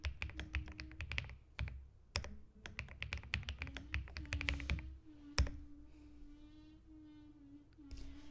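Keys on a computer keyboard are tapped in quick irregular bursts while a password is entered, close and clear, with a steady low hum underneath and a pause near the end before a last few taps.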